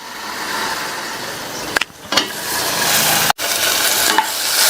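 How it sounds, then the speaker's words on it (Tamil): Tomatoes with a little rock salt sauté in a pan for spinach sambar, giving a loud, steady close sizzle broken by a couple of quick stirring scrapes and a brief clack. "தக்காளி ஓரளவு வதங்கி வரட்டும். மூடி வச்சிருங்க, தக்காளி வேகமா வதங்கிரும்."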